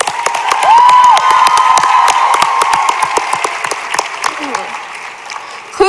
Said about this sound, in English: another round of applause for our villain